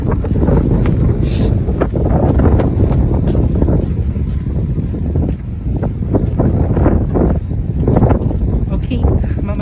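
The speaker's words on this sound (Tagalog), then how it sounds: "OMG, lakas ng hangin, my God." A strong winter storm wind in Saskatchewan, Canada, roars and gusts continuously against the microphone outdoors near a bus stop, loud and unbroken for the whole stretch.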